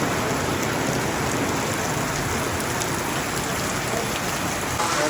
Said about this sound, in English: Still raining like hell.